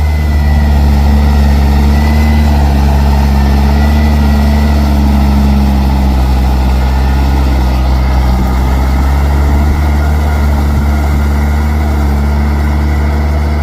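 A truck engine idles loudly and steadily up close, a smooth continuous low rumble with a constant droning hum and no breaks.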